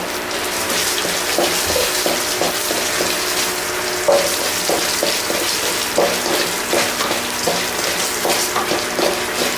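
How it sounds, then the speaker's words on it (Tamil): Spices and ingredients for chicken chukka frying together in a pan, a loud continuous crackling sizzle broken by regular spatula scrapes and taps, with no voices. "அது எல்லாமே மொத்தமாக சேர்த்து ஃப்ரை பண்ணணும்"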